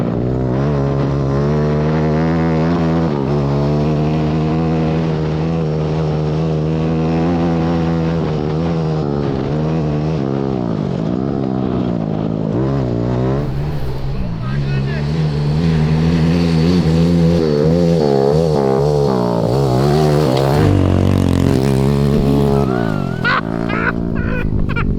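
A 190cc shifter kart engine runs loud and fast on a track, a sustained harsh buzzing drone rising and falling in pitch as it revs and shifts, with brief pauses and light chatter from people nearby.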